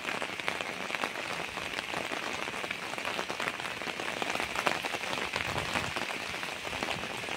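Steady, dense rain pours down during a cyclone storm near a rooftop with coconut trees nearby, a constant hiss of drops pattering on surfaces with no voices.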